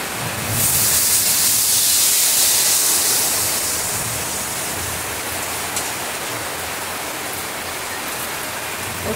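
Whole bay leaf and cumin seeds sizzling in hot oil in a kadai, giving a loud, steady hiss that swells at first and then settles into a constant crackle.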